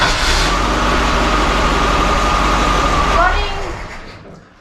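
Rear-mounted engine of a 1972 VW Baja Bug running at a steady idle, a close rumbling drone that holds evenly before a brief whine and a fade toward the end.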